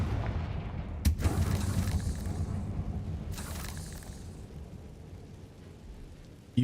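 A Confringo blasting spell going off in Hogwarts Legacy: two sharp booming blasts a couple of seconds apart, each with a rumbling tail, set over low ambient game noise.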